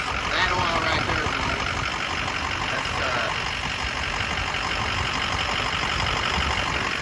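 Rebuilt Ford 6.0 Powerstroke diesel engine idling, a steady, dense rumbling clatter that holds at an even level throughout, close by, with voices talking over it.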